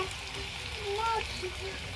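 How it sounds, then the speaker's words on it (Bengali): Chicken pakoras fry in hot oil with a steady, faint sizzle and crackle, under quiet kitchen background noise. "পকোড়াগুলো ভাজা হয়ে গেছে, এবার আমি পকোড়াগুলো তুলে নেব।"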